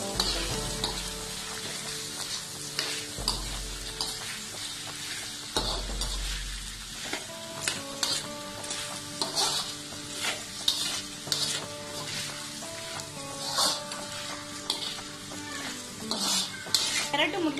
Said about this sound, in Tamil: இந்த உருளைக்கிழங்கு கேரட் எல்லாத்தோடையும் சேர்த்து இந்த வெங்காயம் தாளிதம் எல்லாம் சேர்ந்து வதங்குற